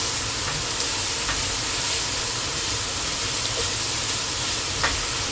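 Beef and cabbage cooking in a pan over medium heat give off a steady, dense sizzle and hiss close by, with faint scraping from stirring now and then and no voices.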